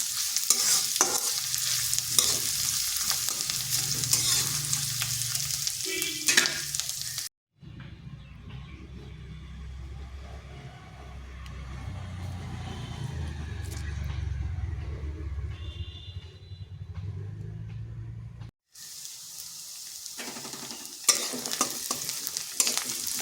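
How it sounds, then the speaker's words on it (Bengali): Onions fry in a pan with a steady hiss and crackle while being stirred, interrupted by a quieter stretch of lower rumbling cooking noise before the bright sizzle returns. "পেঁয়াজটা হালকা ভাজা হয়ে গেছে।"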